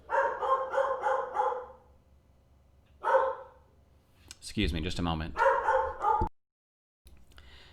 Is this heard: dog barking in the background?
yes